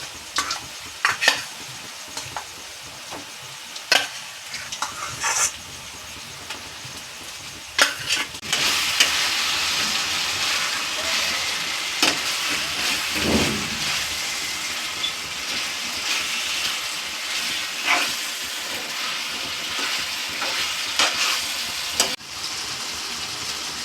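Chicken pieces go into a hot pan for a chicken curry, bursting into a loud, steady sizzle that continues with repeated stirring scrapes and clinks; before that, a quieter frying hiss is punctuated by sharp utensil taps.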